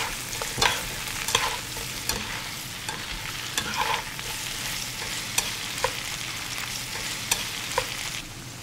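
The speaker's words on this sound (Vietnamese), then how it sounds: "Tiếp theo mình cho ớt sợi vào xào thêm 2 phút nữa rồi tắt bếp." Pork belly with pickled mustard greens and sliced chili is stir-fried in a pan, a steady close sizzle broken by regular scraping and tapping strokes of a spatula, with no talking.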